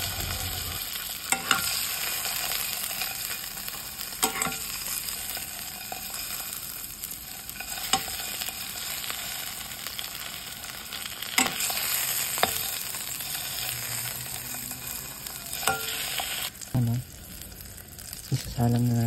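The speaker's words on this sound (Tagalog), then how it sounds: "Tingnan nyo ang tunog ng longganisa ng binalanan." Longganisa sausage sizzles and fries in a pan, with a steady crackling hiss broken by repeated scraping stirs and occasional clinks of the utensil, heard close up and without talk.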